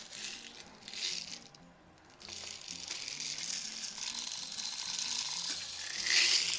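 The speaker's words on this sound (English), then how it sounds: "let's go ahead and throw a few BBs in here and give it a try" BBs tipped into the loading port of an Umarex Marlin lever-action BB gun, a close, continuous metallic rattle of small steel balls that swells louder toward the end.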